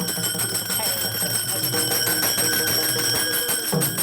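Taal hand cymbals ring during an Ashadhi Wari devotional procession, bright metallic clashes repeating in a fast, steady rhythm, loud and close with dense chiming overtones.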